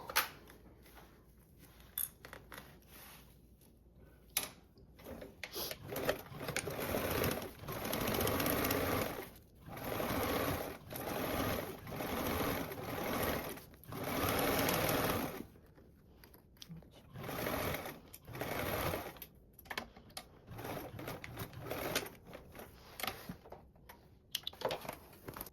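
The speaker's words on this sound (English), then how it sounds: "you can sew another row of stitches 1/8 of an inch away, just from starting below your panel" Domestic sewing machine running several stitching bursts on a canvas tote bag panel, motor whirring in steady runs separated by short pauses and handling noises, fairly close.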